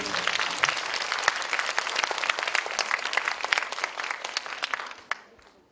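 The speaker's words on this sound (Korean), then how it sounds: "큰 박수 드리겠습니다." Sustained audience applause at a school event honouring an engineering association's president, dense and even throughout before cutting off abruptly near the end with a final clap or two.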